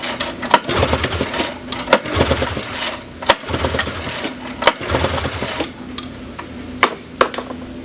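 A 1979 John Deere Cyclone 340 snowmobile engine is cranked with its spark plugs out for a compression test on the magneto-side cylinder. Repeated rhythmic chugging bursts and clattering pulls sound loud and close, with brief pauses between strokes.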